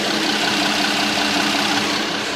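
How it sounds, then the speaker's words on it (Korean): A Hyundai sedan's gasoline engine idles steadily up close with the hood open, an even mechanical hum with a faint rhythmic knock and no pauses. "영상으로 엔진 소음 한번 담아보도록 하겠습니다"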